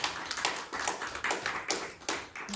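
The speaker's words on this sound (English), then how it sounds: "Please give a big applause." A small audience claps for a presentation at a tech meetup in Japan: dense, steady applause that stays close and fills the short moment without talk.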